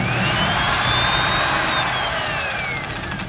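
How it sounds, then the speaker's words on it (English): A cordless drill rigged as a canoe or kayak motor and fed by an inverter and rheostat runs loudly and steadily nearby, its high whine sliding slowly in pitch over a broad rushing drone. "if I turn on this button right now, I'm going to send power to the motor"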